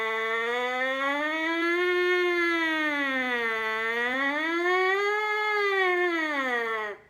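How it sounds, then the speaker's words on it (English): A beginner band student's trumpet plays a continuous siren-like glissando, sliding smoothly up and down in pitch in slow waves, with a loud, clear, sustained tone heard alone until it cuts off at the end. "doing what we call glissandos or sirens, where we're not just staying on the same note"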